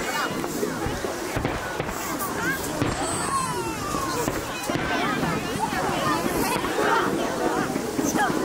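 Fireworks show at Shanghai City Beach on a May Day holiday evening, with booms and crackles mixed into a steady outdoor crowd hubbub and close chatter of children and parents throughout.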